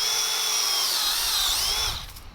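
Power drill boring into the trunk of a crab apple tree near its base, a steady, close, high whine holding for about two seconds before winding down.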